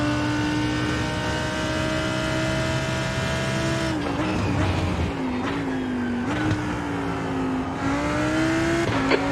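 Race car engines in an IMSA racing game at the Red Bull Ring, a loud continuous engine drone with rising and falling revs through gear changes, steady throughout with no talk.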